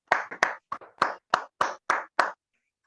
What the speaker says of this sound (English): I would request everyone to unmute themselves and put on a huge round of applause for TM Shanti